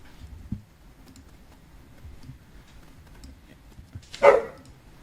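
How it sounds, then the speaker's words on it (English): One short dog bark sounds from across the room, faint against a quiet background with a few soft thumps and clicks. "I apologize for dog barking."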